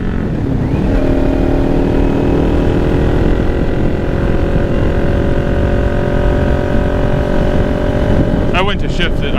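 Motorcycle engine droning steadily under heavy wind rush while riding, its pitch holding level and then shifting near the end as gears change, loud and close to the microphone.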